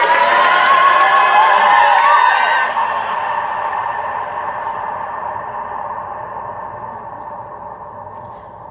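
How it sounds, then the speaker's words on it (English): A group screams, shouts and cheers loudly inside a vast underground cistern, then falls silent, leaving a long, fading reverberant echo that hangs for several seconds. "make as much noise as you can. Scream, shout, clap your hands, stomp your feet, whistle"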